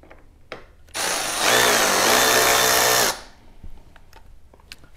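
Cordless power driver spinning out 5/32 bolts from a Harley-Davidson dash panel, a loud steady whir lasting about two seconds with a slight rise in pitch partway, bracketed by faint clicks and handling noises.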